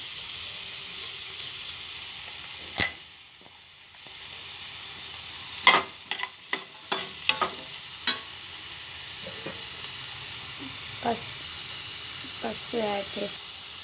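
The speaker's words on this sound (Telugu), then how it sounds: "కొంచెం వేగాక సోరకాయ ముక్కలు" Bottle gourd pieces fry with ginger-garlic paste under a constant hiss of sizzling oil, broken by a cluster of sharp stirring clacks from a spoon against the pan.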